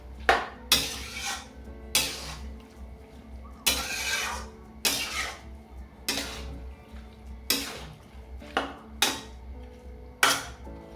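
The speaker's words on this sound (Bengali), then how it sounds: "দিয়ে ভালো করে নেড়ে নিতে হবে।" A pan of bottle gourd greens curry with jackfruit seeds and shrimp being stirred, a spoon scraping and clinking against the pan in repeated, evenly spaced strokes, close and clear, with no talking.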